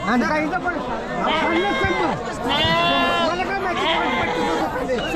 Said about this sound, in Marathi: मेंढ्या बघा मित्रांनो